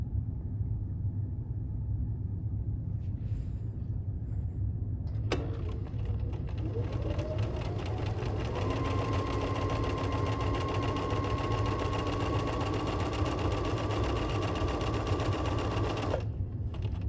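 A sewing machine stitches dog leash fabric, starting after quiet room tone with a click and then running in a steady, rapid mechanical whir for about ten seconds before stopping.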